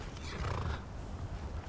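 A horse in the video game Skyrim gives a loud, rough neigh at the start that fades into a breathy rumble, all within under two seconds.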